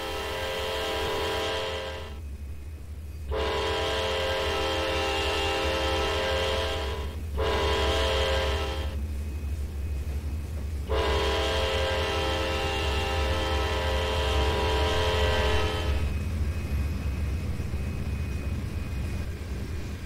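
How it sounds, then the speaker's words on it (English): Loud, long horn blasts from a Norfolk Southern empty trailer train led by two AC44C6M locomotives in a railroad simulator game, several sustained bursts with short gaps over a low rumbling rail noise close by. "this Norfolk Southern empty trailer train, led by two Norfolk Southern AC44 C6Ms"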